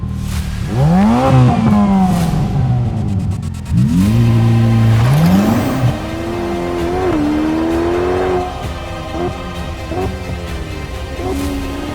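Ferrari F8 Spider V8 engine accelerating hard on a mountain road, loud repeated revving climbs through the gears with brief drops at each shift, sustained close and powerful throughout.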